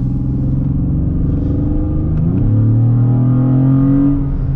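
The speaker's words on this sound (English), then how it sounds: "So I'm in sport. I'm driving sport here" A truck driven in sport mode gives a loud, steady engine drone with tonal harmonics that shift pitch partway through as it shifts or accelerates, heard alone without talk.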